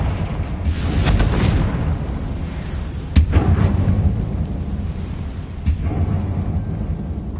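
Confringo fire spell bursts in a mine in Hogwarts Legacy, heavy rumbling blasts with two sharp booming impacts about midway and near the end over a continuous low roar.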